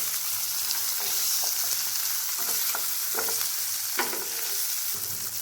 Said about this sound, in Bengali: এবার ঠিক একই রকমভাবে আমি এই সাইডটাকেও ভেজে নেব